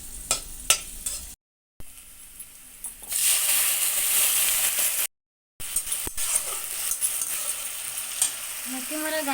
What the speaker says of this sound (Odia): ଏବେ ମୁଁ ଆଳୁ ଭାଜୁଛି